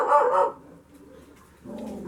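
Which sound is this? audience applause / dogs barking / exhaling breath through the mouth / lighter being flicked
dogs barking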